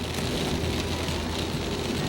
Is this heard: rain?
yes